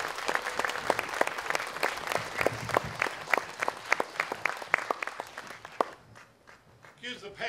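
A protest crowd at the Day of Decision rally in Houston claps for a speaker, a lively run of sharp, close hand claps that dies away near the end before a voice begins talking.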